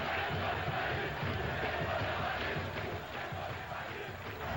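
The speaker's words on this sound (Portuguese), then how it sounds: "A torcida grita contra Valdir." A Brazilian football crowd in a stadium shouts and chants against a player, a dense, sustained roar of many voices with a rough rhythmic swell, filling the whole space at steady loudness.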